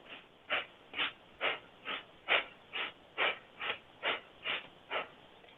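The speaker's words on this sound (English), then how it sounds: "Inhale, exhale, inhale," Slow, rhythmic breathing during a belly-breathing exercise: about a dozen even, airy breaths in steady succession, close and fairly soft, with no talking.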